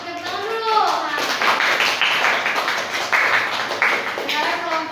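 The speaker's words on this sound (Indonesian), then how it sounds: "Tepuk tangan dulu." Classroom applause from a group of children, a steady burst of hand clapping lasting several seconds with a few young voices mixed in.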